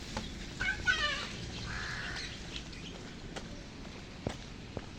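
Birds caw a few times early on, fairly faint, followed by scattered light clopping knocks in a quiet outdoor space.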